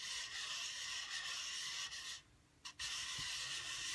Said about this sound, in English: So just sanding,